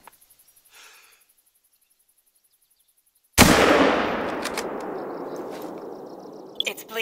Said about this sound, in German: Ich will nicht wieder den Schuss versauen.